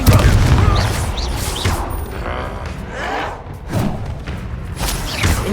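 Confringo spell blasts in Hogwarts Legacy on PS5 boom repeatedly through a loud, busy battle, heavy thuds and bursts layered with chaotic combat noise throughout.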